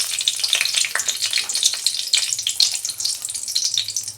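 A bay leaf spits and crackles in a little hot oil in a wok, a close, bright sizzle that pulses unevenly with no voices.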